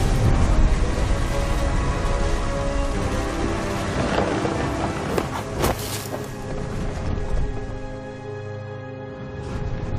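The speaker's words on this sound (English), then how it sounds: "Thunder sounded much too close and full of angry power." Rolling thunder in the game What Remains of Edith Finch, a continuous heavy rumble under steady rain with a sharper crack midway, loud and close throughout.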